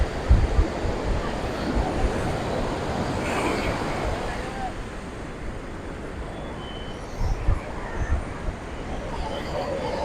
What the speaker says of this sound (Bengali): কি বিশাল ঢেউ।